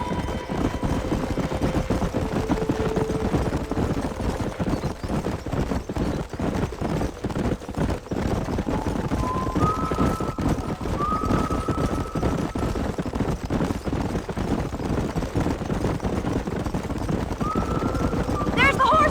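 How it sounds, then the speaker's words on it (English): Wild horses gallop in the Western game Red Dead Redemption, a dense stream of hoofbeats thudding under game music and dialogue as riders chase the herd, with voices talking over the steady pounding throughout. "There's the horses!"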